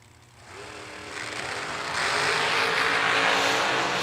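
At a 2025 drag racing event, a supercharged race car at the starting line roars louder as it launches, engine noise swelling in steps into a sustained, loud rasping drone.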